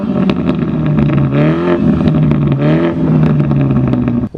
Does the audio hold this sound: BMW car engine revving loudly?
yes